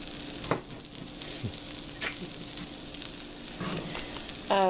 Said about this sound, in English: So Mark is making dinner tonight, and that's sausage. He's browning the rice.